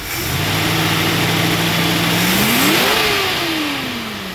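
Engine of a 1974 Ford Bronco, freshly rebuilt with a flat tappet cam, running loud and close: a steady low idle that rises into a brief rev around the middle and then eases back down, with no talking.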